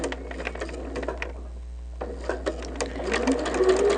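A sewing machine runs off the end of a quilt in rapid, ticking bursts with short pauses, close and moderately loud, the stitching speeding up toward the finish.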